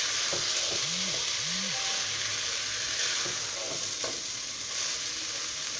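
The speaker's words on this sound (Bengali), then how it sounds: "এখন ভালো করে ভাজতে হবে" Broken rice (khud) with salt frying in a pan pilaf-style, a steady close sizzle throughout with a few light scrapes from stirring.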